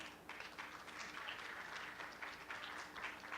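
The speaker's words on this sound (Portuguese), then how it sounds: "Uma salva de palmas aí para a FASU" Audience at a women's agribusiness forum applauding, a sustained, moderately distant round of clapping with soft individual claps blending into a steady roar.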